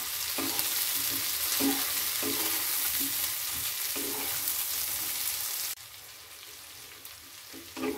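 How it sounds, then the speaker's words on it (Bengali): Chopped tomatoes frying in oil in a pan for Bengali murighanto, a close, continuous sizzle broken by regular stirring scrapes, then quieter sizzling near the end. "টমেটোগুলোকে একটু ভেজে নেব"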